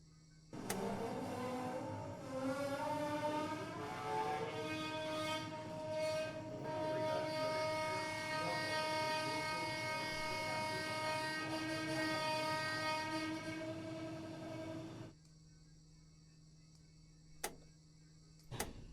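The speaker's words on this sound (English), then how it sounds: "so in here we switch to prime" A simulated Chessie U30C diesel locomotive priming in Train Simulator: a steady rumbling engine drone with layered harmonic whine runs for about fifteen seconds, then drops to a low hum broken by two sharp clicks.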